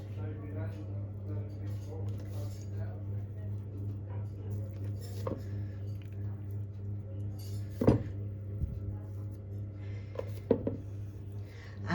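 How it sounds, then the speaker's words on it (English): Dumplings dropped one by one into a chicken and chorizo stew in a pot: a few soft plops and utensil clinks near the end, over a steady low background hum. "And now I'm just going to drop in the dumplings"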